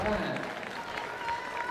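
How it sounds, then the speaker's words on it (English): Crowd at a county youth fair celebrity show clapping and cheering, a steady spread of hand claps and whoops throughout at moderate distance, with voices mixed in. "All right, got a crowd, got a cheering section."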